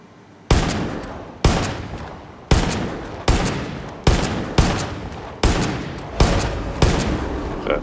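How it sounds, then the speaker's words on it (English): Heavy gunshots ring out in the video game Far Cry 5, about nine loud, evenly spaced blasts roughly a second apart, each one followed by a decaying echo. "Let's see if I can shoot this from here."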